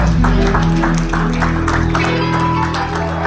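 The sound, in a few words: church congregation giving a hand clap of praise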